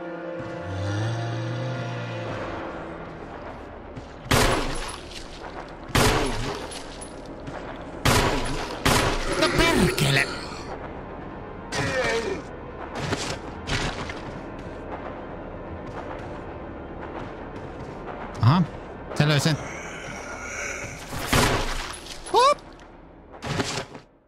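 Repeated gunshots fired at a zombie in the Resident Evil remaster, sharp loud bangs spaced several seconds apart over a dark ambient backdrop, with a person talking in between.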